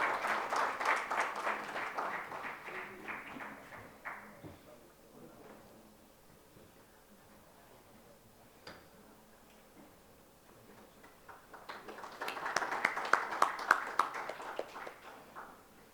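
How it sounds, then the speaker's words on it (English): Clapping from a conference audience at a session on regulatory changes and compliance, lively at first, fading to near quiet in the middle, then swelling again into a second burst of applause. "Huge round of applause, ladies and gentlemen."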